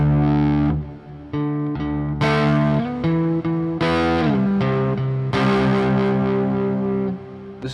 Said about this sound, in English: Really, that's like your distortion channel.